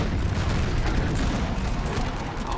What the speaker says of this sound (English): this artillery is just killer